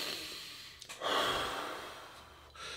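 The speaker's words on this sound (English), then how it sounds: "It's about that deep breath." A single deep breath, with a soft airy intake followed by a longer audible exhale, close and fairly quiet, with no talking.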